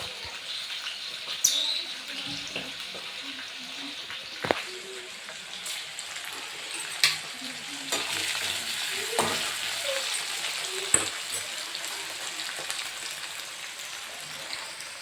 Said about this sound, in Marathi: तेल उडतंय मित्रांनो.